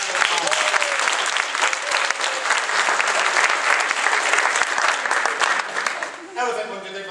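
An acting workshop audience breaks into loud, dense applause that carries on steadily for several seconds, then gives way to a voice speaking at the end.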